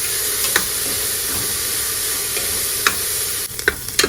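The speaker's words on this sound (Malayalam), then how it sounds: "ഉള്ളി ഒന്ന് നന്നായിട്ട് വഴന്ന് വരണം." Onions sauté in a pan for khichdi, giving a steady close sizzle with occasional scraping strokes as they are stirred.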